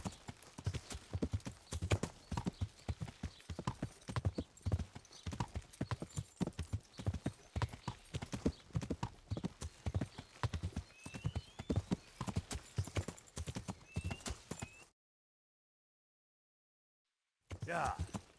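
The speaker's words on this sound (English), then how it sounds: "Learn how to ride a horse." Horse hoofbeats pound in a steady clip-clop rhythm while riding in the video game Kingdom Come: Deliverance, close and continuous, broken by a brief silent gap before resuming; occasional voices may sit faintly underneath.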